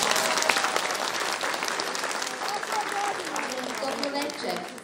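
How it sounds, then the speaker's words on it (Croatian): A concert audience in Bihać claps loudly and steadily for the Banjalučki vez ensemble, a dense wash of many hands filling the hall with no let-up, with faint voices underneath. "Glumci vole malo žešće aplauze,"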